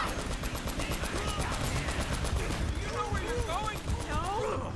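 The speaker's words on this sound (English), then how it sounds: "this bit's very noisy with lots of explosions" Rapid gunfire and explosions from the video game Uncharted: Drake's Fortune Remastered during a jeep ride, loud and continuous with dense bursts, while a player talks over the action.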